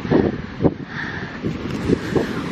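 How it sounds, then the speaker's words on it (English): Choppy ocean waves breaking under strong wind, with irregular surging washes and heavy wind buffeting the microphone throughout a short outdoor stretch. "Those waves, man."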